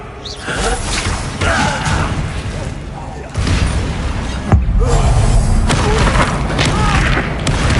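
Bombarda blasting spell explosions in Hogwarts Legacy, dense booming blasts and thuds in a constant loud game soundscape with sudden impacts, mixed under spoken voices.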